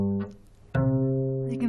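Two sustained tones a musical fourth apart, a brief first note followed after a short gap by a longer second one, clear and alone.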